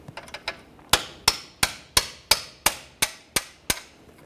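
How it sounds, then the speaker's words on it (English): Hammer driving a punch against steel on a 2012-2018 Nissan Altima lower control arm and ball joint, a run of about a dozen sharp metallic strikes, light at first then evenly spaced loud ringing blows. "We'll continue on with a hammer and punch, drive this straight through."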